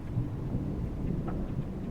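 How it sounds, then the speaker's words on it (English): Low, distant rumbling thunder rolls continuously, a deep muffled roar with no talking over it. "Tons of thunder, and it's supposed to rain today."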